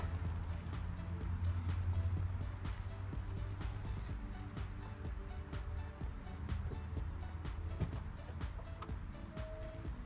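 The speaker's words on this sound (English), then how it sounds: "and then I'll unlock the door." Keys jingle and rattle faintly at the door of a 1988 Porsche 944 against a steady background hum and insect chirring, with light handling clicks but no clear lock sound.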